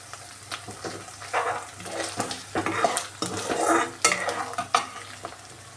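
Chopped vegetables for egg fried rice sizzle in a hot pan while a utensil stirs and scrapes them in repeated bursts, with occasional clinks against the pan, close and moderately loud.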